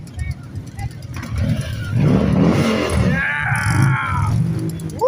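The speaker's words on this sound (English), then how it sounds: "Give it a little rev!" A motorbike engine revving at a local motorbike event, rising and rumbling loudly through the middle and falling back, with crowd voices shouting over it.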